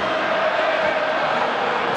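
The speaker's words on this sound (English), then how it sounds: "French crowd raise their voice again" A French rugby crowd swells into a steady, dense roar at a 2014 Six Nations match between Ireland and France, a sustained wall of voices held throughout.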